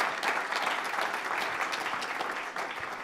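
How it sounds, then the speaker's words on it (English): Audience applause at a live business pitch competition event, steady continuous clapping from a room of people for about three seconds, fairly distant and even. "Round of applause for Corbin."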